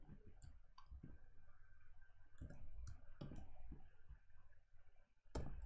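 Sharp mouse-button clicks from a computer mouse during a web-browser demonstration, several scattered single clicks and a few quick pairs over a quiet room hum, fairly close and crisp.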